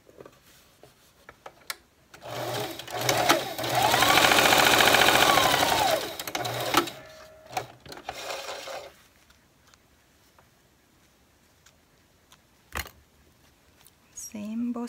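A sewing machine runs steadily for about four seconds while stitching the edge of a fabric face mask, then gives a few short bursts, with light handling noise and a brief voice near the end.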